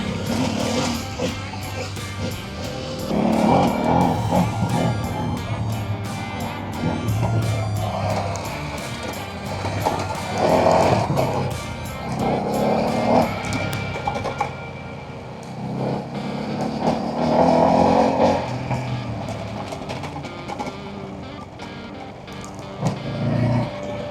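A Ducati Desert X motorcycle ridden off-road through the bush gives a throaty engine drone that swells and eases in repeated surges as the rider works the throttle, heard up close over constant wind and road noise.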